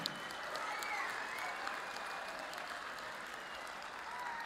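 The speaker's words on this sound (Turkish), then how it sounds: "Alkışlıyorum." A hall audience at a Green Crescent branch event applauds, a soft, continuous wash of many hands clapping at a distance, steady and fairly quiet throughout.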